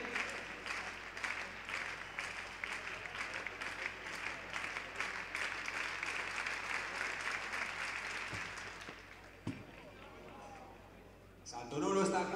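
Indoor track crowd clapping in rhythm for a jumper at a Galician indoor championship, a steady beat of palms lasting about nine seconds before fading, then a brief burst of noise near the end, with a commentator's voice.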